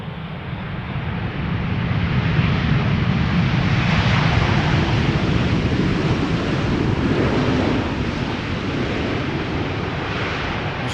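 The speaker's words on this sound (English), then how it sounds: "het was een redelijk stille landing, dus hij gebruikte ze niet" A KLM airliner lands at Schiphol without thrust reversers, a broad continuous roar of jet engines and rushing air that swells early and holds steady, with wind noise over the microphone.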